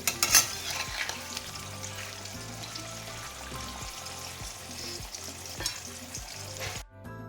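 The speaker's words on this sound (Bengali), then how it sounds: "আলু ভাজা চলছে" Potatoes fry in a pan, with a steady close sizzle and rhythmic scraping stir strokes that stop abruptly at the end.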